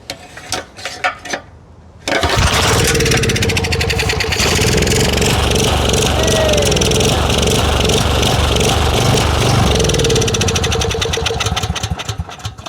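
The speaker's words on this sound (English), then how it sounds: "we do have an engine that is attempting to make power" A trashed Storm Responder portable generator with a Honda-clone power head fires up after a few failed pulls and runs loud and rough, a steady close engine drone that sags and surges for about ten seconds before dying down.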